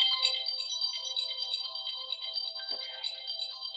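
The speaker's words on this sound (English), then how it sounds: "Sorry, that's my alarm." A phone alarm rings steadily at moderate volume, a continuous electronic ringtone melody with a brief faint thump partway through.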